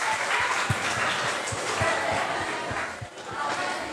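Audience members at a talk on sexual consent clap together in a moderately loud, even patter of many hands lasting about four seconds.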